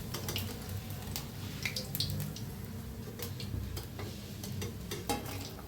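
Onion and potato pakoras deep-fry in hot oil, giving a soft, steady sizzle. Scattered clinks and scraping stir noises break through now and then, fairly quiet and with no one speaking.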